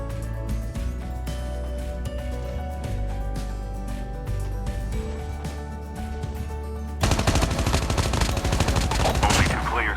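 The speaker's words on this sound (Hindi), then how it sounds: "पीछे से गन फायर के साउंड आते हैं" Rapid automatic gunfire in COD Mobile, a steady rattle of shots with game music underneath, swelling into a louder, denser burst of fire near the end.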